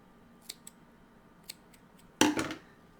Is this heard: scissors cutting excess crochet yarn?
yes